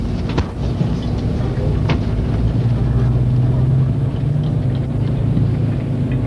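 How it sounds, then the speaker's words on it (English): A moving tour bus heard from inside, a loud continuous low engine drone and road rumble with rattles and a few knocks, voices faintly mixed in. "The bus is moving."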